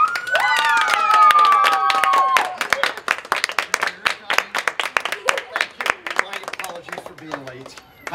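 A high cheering voice rings out, then a crowd claps in scattered, uneven bursts that gradually thin out.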